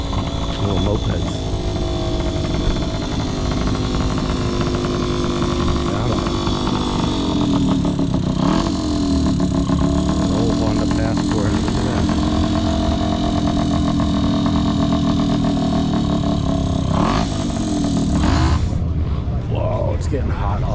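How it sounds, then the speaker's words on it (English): Small mopeds putter past at a cars and coffee meet, their mid-pitched engines running steadily and close for a long stretch, with brief swells as they move by. "Little mopeds."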